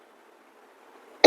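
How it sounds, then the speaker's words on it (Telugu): A single short cough bursts out loudly at the very end, after a stretch of faint low background murmur. "నాకు కాఫ్ ఉంది, ఎక్కువ మాట్లాడుతుంటే కూడా నాకు దగ్గు వస్తుంది"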